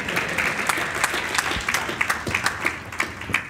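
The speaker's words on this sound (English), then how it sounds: "you can give me a nice round of applause." An audience applauds in a steady, dense wash of clapping that holds at an even level for several seconds, close and fairly loud, with no talk over it.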